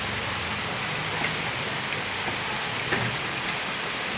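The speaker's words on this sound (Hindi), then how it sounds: "बहुत तेज़ बारिश हो रही है" Heavy rain pours down steadily outdoors during a storm, a dense, even wash of drops with no pauses and a few faint taps standing out from the roar.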